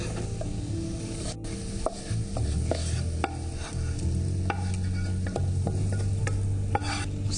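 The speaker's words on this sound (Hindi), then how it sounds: "अब हम इस लौकी को जो कि पक चुकी है इसमें ऐड करते हैं" Cooked bottle gourd is stirred into thickened milk in a pan, giving a close, continuous bubbling simmer punctuated by repeated scraping and knocking of the spoon.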